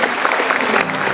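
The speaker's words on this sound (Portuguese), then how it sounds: "Aplauda o Senhor mais forte." A church congregation claps loudly at a Lord's Supper service at an Assembly of God headquarters in Guarulhos, a brief burst of steady applause.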